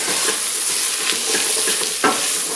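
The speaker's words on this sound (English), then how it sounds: "Then give all that a stir." Vegetables and spices for chilli con carne stirred as they fry in a pan, with a steady loud sizzle, scraping strokes of a utensil and one sharper knock near the end; no talking.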